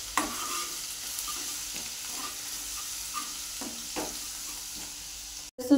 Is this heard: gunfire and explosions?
no